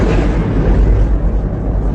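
Explosion from an attack on a US base in Jordan, a loud, heavy low rumble that stays dense and continuous throughout, with no voices.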